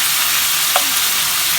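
Bacon frying in a pan, a loud, dense hiss that stays steady throughout, with one faint tap of a utensil in the middle.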